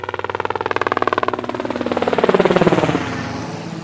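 A helicopter arrives, its rotor chopping in a steady rapid rhythm that grows louder and deeper as it draws close, with no voices over the thudding blades.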